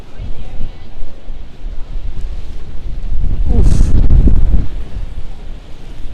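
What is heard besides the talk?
strong wind blowing on the microphone on a Manhattan street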